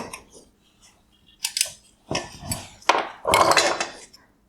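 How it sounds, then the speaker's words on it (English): Sharp plastic clicks and snaps as the bi-LED solenoid actuator connector is pulled apart inside a 2017-2018 Subaru Forester LED headlight, a few close handling taps building to a louder cluster of rattles. "Next, I will disconnect the bi-LED solenoid actuator connector."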